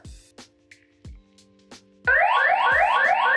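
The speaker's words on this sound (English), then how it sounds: "the SOS mode sends the alarm off" A series of sharp beeps and tones from an X-Sense home security keypad give way to a loud, piercing siren in SOS mode that wails in rapid repeating sweeps.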